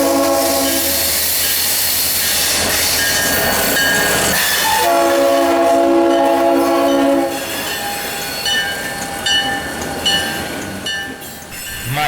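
An FEC freight power move hauling a coal train into the Medley yard rolls past loudly, with long sounding horn blasts over rumbling wagons and occasional wheel squeal, no voices.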